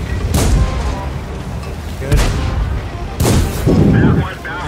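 Tank cannon fire in the online game World of Tanks, three sharp booming shots spaced a second or so apart over a steady rumbling game soundtrack, with voices talking between the blasts.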